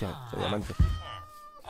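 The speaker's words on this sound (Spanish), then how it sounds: "He escuchado un gato" A cat in the Minecraft video game gives a short meow, heard briefly among a man's Spanish speech.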